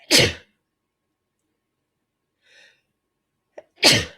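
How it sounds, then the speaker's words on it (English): Two forceful human sneezes, one at the start and one at the end, separated by near silence with a faint sound and a short sharp intake of breath just before the second sneeze. "I feel like I'm going to sneeze"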